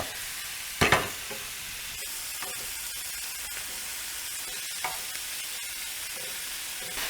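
Chicken fries in a pan with a steady, hissing sizzle that holds a constant level, broken by a sharp clatter near the start and a softer knock later, close up and without speech.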